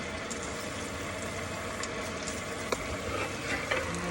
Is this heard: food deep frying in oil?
yes